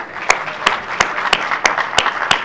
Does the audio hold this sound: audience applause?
yes